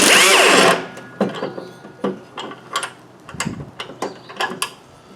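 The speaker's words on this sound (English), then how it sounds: "I've zipped 3 of the bolts already loose, and this will be the 4th one." A power tool zips loose a seized bolt on the aluminum blade spindle housing of a Craftsman YTS 3000 mower, opening with a loud whirring burst, then irregular clanks and rattles of the tool and parts nearby.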